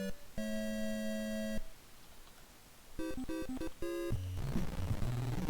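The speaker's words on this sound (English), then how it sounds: "that beeping is just ringing in my ears" Electronic game beeps ring out in long sustained tones, then a quick run of short chiptune blips ending in a noisy buzzing burst.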